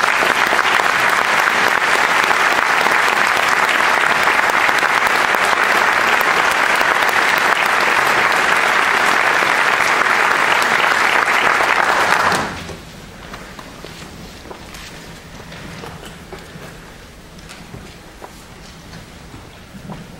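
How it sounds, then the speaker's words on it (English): Loud, dense applause from a seated audience at a teaching award ceremony, sustained for about twelve seconds before cutting off abruptly into quiet room tone with faint scattered sounds. "And let's give them one more round of applause."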